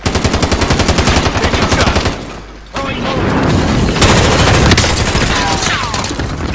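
Dense, loud machine gun bursts in the Call of Duty Warzone battle royale, a rapid rhythmic rattle for about two seconds, then after a brief drop continued heavy gunfire and explosive booms with a voice under the din.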